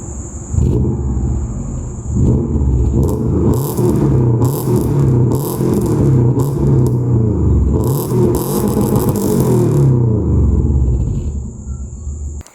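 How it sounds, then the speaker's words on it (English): A Subaru Outback with a full aftermarket exhaust system idling and revving nearby, a steady throaty exhaust rumble rising in several bursts, with a high insect-like whine over it. "And then full exhaust system, which you'll hear now."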